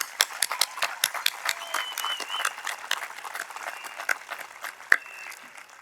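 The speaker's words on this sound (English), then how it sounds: "Please give them a round of applause for helping us today." Applause from a crowd at a California military school graduation ceremony, a dense patter of many hands clapping at moderate loudness, with a few louder claps and faint crowd noise mixed in.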